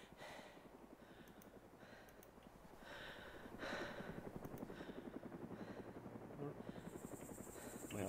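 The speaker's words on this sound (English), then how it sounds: "Oh Jesus, it's another helicopter or plane." Helicopter rotors in the video game DayZ chop steadily and rapidly, growing louder as it passes overhead, under a faint voice.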